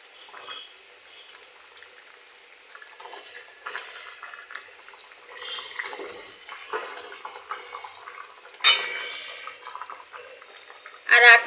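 Fried rui fish is stirred with tomatoes and potatoes in a pan, giving soft sizzling and scraping at low volume with a few sharper clinks near the end.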